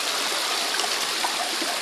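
A clear rural stream in Bicol, where villagers bathe and fetch drinking water, rushes steadily and close by with a constant gurgling flow, no voices over it.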